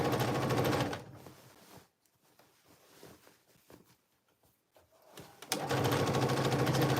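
A sewing machine stitches cargo pants in two bursts of steady, fast whirring, separated by a quieter pause filled with faint handling noises.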